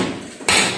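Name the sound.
hammer striking steel plate of CPO tank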